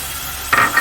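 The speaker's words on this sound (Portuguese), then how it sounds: "E agora a gente vai dar uma refogada nesses dois." Bell pepper and pepperoni sautéing in hot oil, a brief close sizzle with a sudden stirring scrape partway through.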